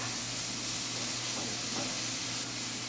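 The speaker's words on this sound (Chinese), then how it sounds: "现在已经油热了，我们现在可以把这个牛小肉放进去了" Australian beef mince hitting hot oil in a wok for a quick stir-fry with coriander, a loud continuous hissing sizzle throughout with faint scraping of the spatula pressing it flat.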